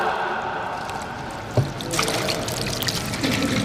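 Water is poured over a body during a ritual washing of the dead, a steady splashing trickle that builds and spreads, close and moderately loud, with a brief knock partway through.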